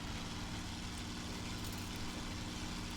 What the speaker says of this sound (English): You see how hearing the enemy engine helps.